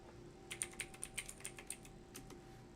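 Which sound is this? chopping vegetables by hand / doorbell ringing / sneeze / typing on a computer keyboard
typing on a computer keyboard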